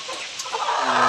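A chicken gives a quick burst of loud, close clucking, short and alone, with no voices around it.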